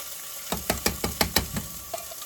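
Diced tomatoes dropping from a can into spaghetti sauce, a run of about six soft, close wet thuds and splats in a quick steady rhythm, then a fainter one after a pause.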